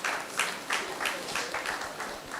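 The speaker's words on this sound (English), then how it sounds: "Please clap on for him." An audience at a memorial lecture claps in a quiet, distant burst of applause, its rhythmic waves rising and falling for a couple of seconds.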